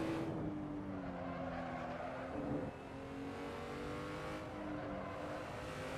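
Racing car engine in Assetto Corsa during an online street race, a fairly quiet sustained drone that dips and bogs down around the middle before pulling steadily again.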